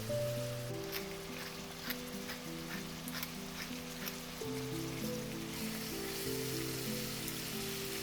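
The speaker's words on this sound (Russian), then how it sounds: "Обжариваем курицу до золотистого цвета." Chicken pieces fry in a pan with a constant soft sizzle and crackle like light rain. Steady background music plays underneath and no one speaks.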